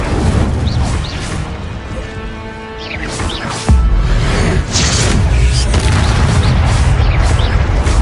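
The Incendio fire spell is cast in Hogwarts Legacy, a loud booming burst with crashing impact that cuts in midway and leaves a sustained roaring rumble under busy game effects.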